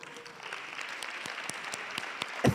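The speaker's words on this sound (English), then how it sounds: "Let's give a round of applause to brother Thabang." Audience applause for a speaker at an event on building resilient economies, with scattered claps ringing out as fairly faint clapping and a louder thump near the end.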